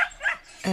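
An American cocker spaniel puppy gives a couple of short, high yips close by, with a brief pause between them.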